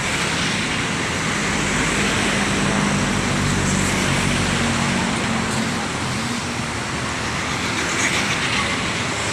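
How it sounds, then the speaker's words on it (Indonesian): An intercity bus pulls away with a steady, loud low engine rumble and broad road noise throughout, a faint tonal drone in the lower range holding briefly mid-way, with no talk. "Bus akan segera diberangkatkan"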